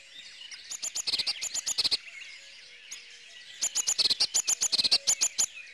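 Small garden birds such as tits chirp in two fast rhythmic bursts of sharp, high repeated notes, close and clear, separated by a brief quiet pause.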